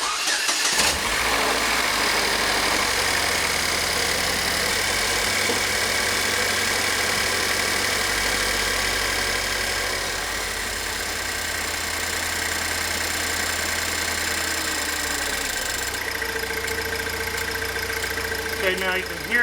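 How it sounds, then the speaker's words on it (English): Pontiac Solstice engine idling steadily with its high pressure fuel pump ticking along, a continuous close mechanical drone with a brief starting surge at the beginning. "start the car up, and we'll listen to the high pressure fuel pump"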